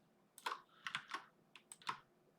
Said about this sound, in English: all of my mechanical keyboard sounds